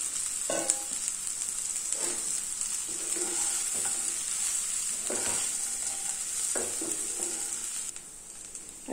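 Fried bottle gourd pakodi is stirred into masala in a pan, with a steady bright sizzle and occasional scraping strokes of a spoon at a relaxed pace. Nobody speaks.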